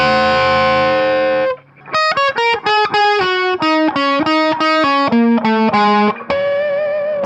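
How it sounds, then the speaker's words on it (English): Distorted electric guitar from a song: a long sustained tone, a brief gap, then a quick run of bright ringing harmonic notes stepping down in pitch, loud and alone. "So that's a harmonic there."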